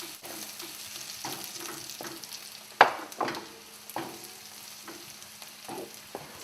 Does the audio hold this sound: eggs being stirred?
yes